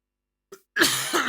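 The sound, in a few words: cough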